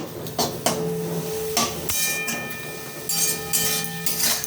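Cane shoot greens being stirred in a pan over a high gas flame, with clattering spatula scrapes and metallic knocks against the pan over a steady cooking hiss, close and fairly loud.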